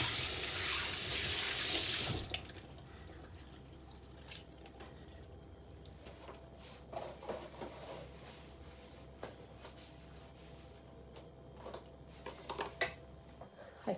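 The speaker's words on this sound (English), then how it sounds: "I'm going to wash off the soap in my own hands" Water runs from a tap as soap is rinsed off hands during a hair wash routine, a loud gush for the first two seconds, then a softer steady trickle with light splashes and occasional clinks.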